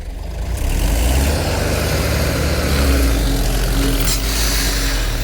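A tractor engine revs steadily and loud while the tractor reverses with a loaded trailer, a low heavy rumble that runs unbroken throughout.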